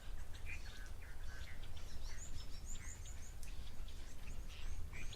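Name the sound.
chinspot batis croaky call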